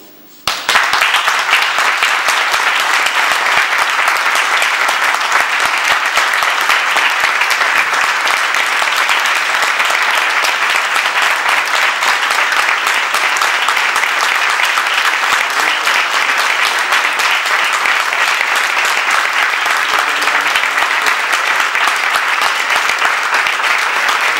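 Loud, sustained applause from a large audience at a historical memory ceremony in La Pobla Llarga, a dense, even roar of clapping that starts suddenly and carries on for over twenty seconds.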